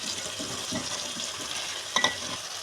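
Pieces of bottle gourd fry in a pan with tomato and coriander for a Telugu dalcha curry, giving a steady close sizzle with soft stirring scrapes and a brief clink near the end.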